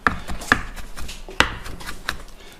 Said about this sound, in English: This is the garlic, and you just chop this up finely